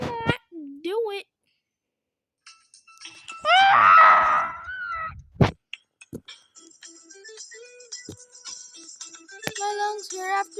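A person lets out a loud, wavering scream with rising and falling pitch, preceded by shorter vocal wails, then followed by lighter electronic chiming tones and talk, all close and indoors.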